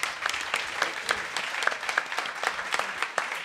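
Audience at a foundation launch evening applauding, a steady patter of many hands clapping at moderate distance throughout.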